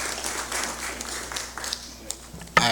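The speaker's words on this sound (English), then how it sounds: "may I ask that we give a big round of applause" A legislative session audience applauds with a moderate wash of clapping while a voice talks over it, and a sharp louder burst comes near the end.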